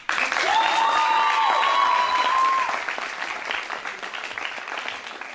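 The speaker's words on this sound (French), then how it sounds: "la troupe et moi, on va vous saluer, on va vous applaudir" An audience claps loudly after a stage performance of a music-themed play, a dense sustained burst of applause that gradually thins, with a high whistling tone sliding over it early on.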